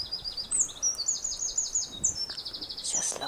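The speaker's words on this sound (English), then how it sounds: "Birds singing and your plane going overhead." Birds sing and chirp outdoors in a rapid, repeated high twittering series, fairly close and clear over a quiet background hiss, with no talking.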